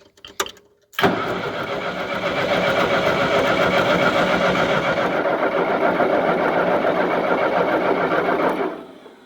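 A 1955 Ferguson TO 35 tractor engine cranks after a short quiet moment, then catches and runs loud and steady for about eight seconds before shutting off near the end, heard up close with no talk.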